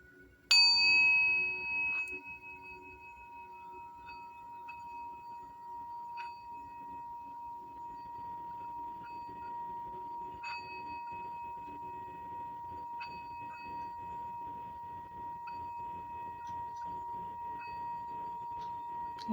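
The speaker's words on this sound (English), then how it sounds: "We're going to do Tibetan Bell today" A Tibetan bell is struck once and rings out in a long, pure sustained tone that slowly fades, with a few faint extra chimes over a soft background hum.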